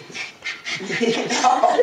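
Rapid, breathy panting from a dog close by, rhythmic puffs over a voice speaking at the same time.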